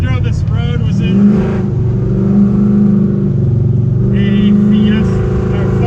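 A 1968 Ford Mustang Fastback's engine drones steadily as the car drives along a road, a low continuous rumble that swells slightly, with someone talking over it.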